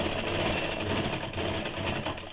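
A sewing machine runs steadily while stitching the side seams of a pair of ladies' pants, a continuous, fairly quiet mechanical whirr for a couple of seconds.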